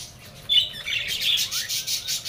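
A parakeet kept with a bamboo nest box gives a sharp squawk followed by a run of quick chirps and tweets, close by and fairly faint.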